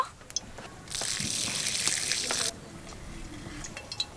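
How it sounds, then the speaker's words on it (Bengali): Soaked Gobindobhog rice has its water drained off in a kitchen, a steady rushing pour of water that runs about a second and a half, then stops, leaving faint drips and small handling sounds. "তো জলটা ঝারিয়ে চালগুলো একটু শুকনো করে নেব।"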